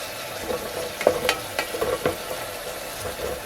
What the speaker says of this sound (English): our onions and sweet pepper cooked lightly